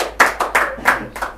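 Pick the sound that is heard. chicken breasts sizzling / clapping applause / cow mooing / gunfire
clapping applause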